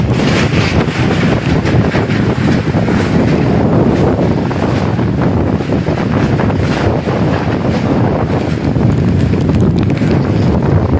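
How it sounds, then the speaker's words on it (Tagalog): Strong typhoon wind roars and buffets the microphone in loud, unbroken gusts, the blasts swelling and easing without pause and with no talking heard. "grabe kakusok ka ang hangin."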